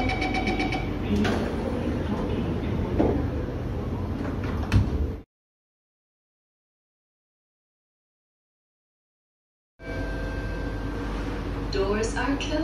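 MRT/LRT train doors sliding shut, a loud mechanical rumble with chime-like tones, heard twice with a stretch of silence between.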